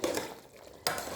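Sauce in a pan being stirred with a utensil, a short close burst of scraping and swishing that pauses briefly and then resumes, with no talk.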